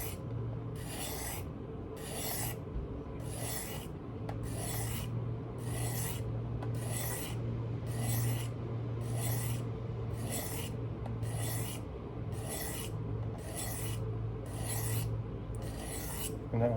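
Blade strokes on a Work Sharp Field Sharpener, a steady run of about fourteen evenly spaced, close rasping scrapes over a low background hum, with no voices.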